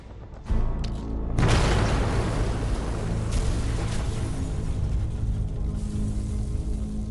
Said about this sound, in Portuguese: A explosão tem sucesso e causa o colapso do setor central da muralha norte do forte